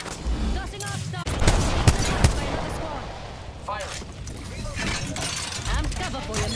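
Gunfire in Apex Legends crackles in irregular bursts with sharp cracks and impacts, mixed with voices speaking throughout the firefight.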